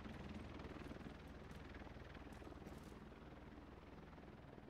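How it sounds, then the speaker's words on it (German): Helicopter in the video game The Division 2 passing by with a steady, quiet rotor thrum and whine, fairly distant and continuous. "Oder war das jetzt ein normaler Helikopter?"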